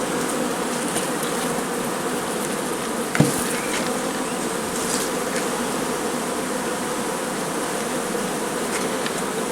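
A dense, steady buzz of many honeybees at an open hive fills the air up close, with a single sharp knock partway through.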